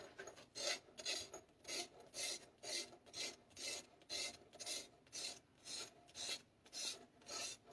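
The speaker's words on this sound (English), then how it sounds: "what we'll do now is sand that just a hair. Some really fine stuff just to clean it up" A glued fly rod joint rubbed with very fine sandpaper, about fifteen even back-and-forth rasping strokes in a steady rhythm, close and quiet with no talking.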